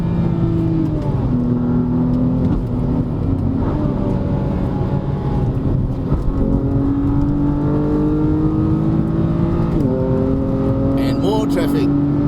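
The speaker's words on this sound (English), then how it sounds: "so much traffic." Several cars and other road vehicles pass and rev on the mountain road up to Genting in Malaysia, a steady hum of engines rising and falling close by, heard from inside a BMW M4 with talk over it.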